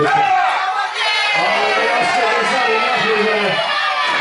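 A wrestling crowd cheers and shouts in a steady, loud, close roar of mixed voices that never lets up.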